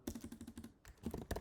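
Keys tapped on a computer keyboard in quick, uneven bursts, a run of even strokes then a pause and a second flurry, close and fairly quiet.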